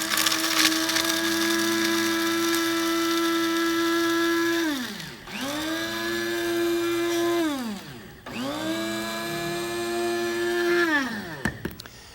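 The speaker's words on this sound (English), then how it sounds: "we've got some pistachio nuts. We're going to grind them up" Raw, unsalted pistachio nuts are ground to a powder in a loud electric blender. The motor whines steadily and runs in three long bursts, each winding down with a falling pitch before restarting.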